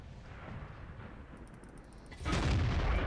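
A tank cannon fires in the World of Tanks video game. One heavy, loud blast hits after a quieter stretch of rumbling battle ambience, and its booming roar carries on to the end.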